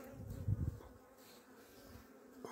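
Honey bees buzz inside a hive during an early-season hive inspection, a low steady hum that swells briefly near the start and then settles into a faint, continuous drone.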